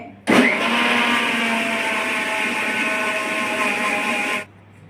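Mixer grinder blending moong dal batter with curd, a loud, steady whirring motor drone that starts abruptly, runs evenly for about four seconds, then cuts off, close and alone.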